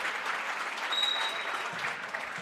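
Crowd applause at a high school basketball game between Wahpeton Huskies and Four Winds/Minnewaukan, a steady dense clapping wash filling the gym from a distance for the whole stretch.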